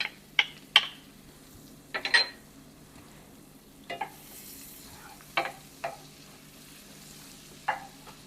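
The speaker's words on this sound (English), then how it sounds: "Now I'm going to add the onion. I'm going to add the garlic." Onion and garlic sauté in butter in a pan, with a quiet, steady sizzle broken by several sharp scrapes and taps of a utensil against the pan at irregular intervals.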